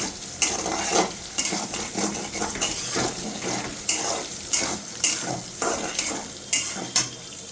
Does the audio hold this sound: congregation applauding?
no